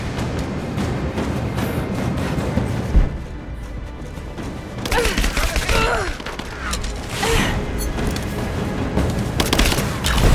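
Gunfire rattles through a firefight in the game Rise of the Tomb Raider, with dense bursts of automatic shots, a thud, then heavier volleys and impacts, loud and continuous, with faint shouted voices in the mix.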